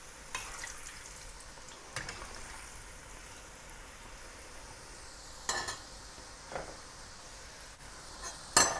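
Sliced fat garlic cloves frying in oil for fried calamari, a steady soft sizzle throughout with a few brief clinks and stirring knocks, close and fairly quiet with no talk.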